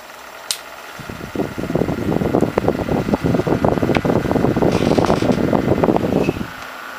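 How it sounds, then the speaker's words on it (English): Cooler Master SickleFlow 2000 RPM PC fan being plugged in, starting with a soft click, then a loud, steady whirring with rapid fluttering pulses, alone and close up, ending in a cut-off. "Now we're going to plug in the Cooler Master fan. This is a sickle flow. This is 2000 RPM"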